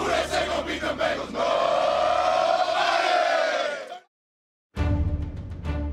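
A huge home crowd at the Cincinnati Bengals stadium roars and cheers loudly and continuously for about four seconds, then goes abruptly silent before crowd noise returns.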